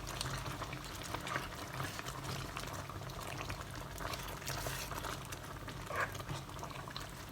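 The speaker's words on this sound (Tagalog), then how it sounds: "Pakuluin for another 5 minutes" Lechon paksiw simmering in a pot gives a steady bubbling, gurgling wash, close and continuous, with a few brighter pops and clinks.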